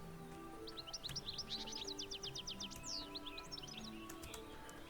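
Fast twittering birdsong from the video game Corsairs Legacy runs in rapid series of chirps over a low, steady ambient hum, quiet and with no speech.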